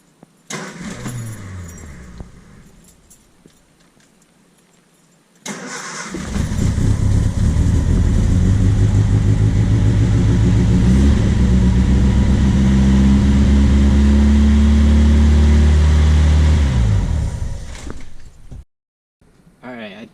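A Triumph Spitfire engine with a Weber carburetor cranks and catches after a few seconds of quiet, then races at a steady, too-high fast idle for about ten seconds before cutting off.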